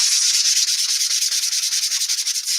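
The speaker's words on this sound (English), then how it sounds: "I am going to use my sanding block." A sanding block roughs up a painted wooden surface in quick rhythmic back-and-forth strokes, loud and close with a scratchy hiss and no voices.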